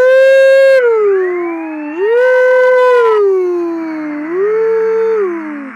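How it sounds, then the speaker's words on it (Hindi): Police siren in the Indian Bike Driving 3D video game wails loudly and continuously, its pitch sweeping up and down in slow repeated rises and falls with no talk over it. "यार सायरन कैसे बंद होगा यार,"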